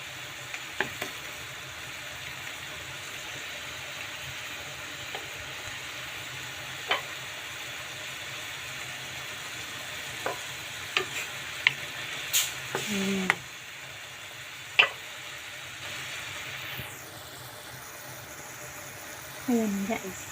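Food for a home-cooked Filipino dish frying in a pan, a low continuous sizzle under scattered clinks and scrapes of a spatula stirring, with occasional louder knocks against the pan.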